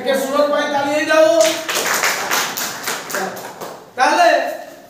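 Students in a classroom clap together in a burst of rapid, loud claps lasting a couple of seconds, with a teacher's voice before and after.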